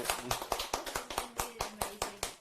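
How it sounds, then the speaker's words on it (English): A few people clap at a casual wine tasting, distinct close hand claps in a quick uneven rhythm for a couple of seconds, fairly quiet. "So let's get a clap."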